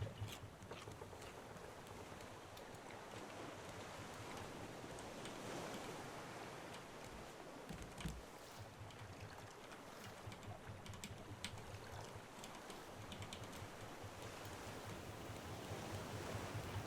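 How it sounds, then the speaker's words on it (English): In the Raft video game, a motor boat's engines drone low and steady beneath the constant wash of big ocean waves and wind. A brief thump lands midway, and the surf swells gently toward the end with no talk. "Nice big waves. Luckily it's not drowned out our engines yet."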